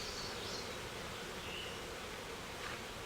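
Honey bees buzz steadily around an open hive during an inspection, a dense, continuous hum that holds at an even level throughout with no talking.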